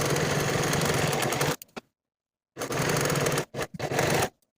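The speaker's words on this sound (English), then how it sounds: "I'm going to finish the raw edges using my serger" A serger runs along raw fabric edges in two bursts of dense, rapid mechanical whirring, each ending in a few short stops and starts, with a brief silence between them.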